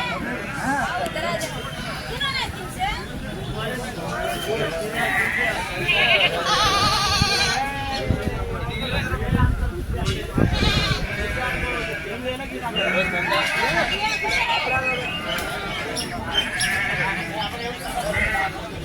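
Sheep and goats bleat repeatedly at a busy livestock market, many overlapping cries near and far, mixed with crowd chatter and a person talking close by.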